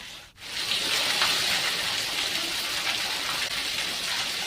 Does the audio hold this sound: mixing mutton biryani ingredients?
no